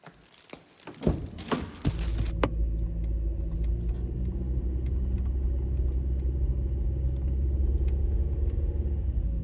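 A car heading out on a roughly 45-kilometre drive to the countryside in rural China starts with a few clunks and rattles. A steady low engine and road rumble then builds and continues close up, with faint ticks over it.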